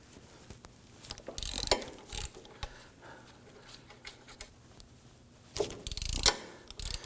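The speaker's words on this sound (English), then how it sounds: "We're going to use our ratchet to go ahead," A ratchet loosens 16mm brake caliper bracket bolts on a 2008-2011 Ford Focus, giving bursts of rapid close clicking with pauses and light metallic handling noises between.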